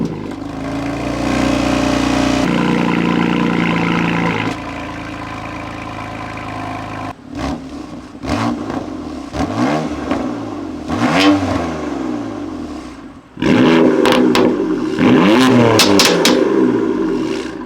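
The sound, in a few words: BMW M car engine revving, M Performance exhaust and intakes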